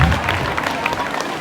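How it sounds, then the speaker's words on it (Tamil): An audience at a college Pongal folk-arts festival breaks into loud, dense applause, a close crowd of clapping hands with some cheering mixed in. "நல்லா கைதட்டுங்க."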